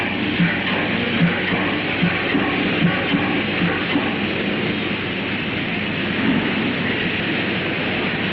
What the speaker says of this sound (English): The train comes in 10 minutes.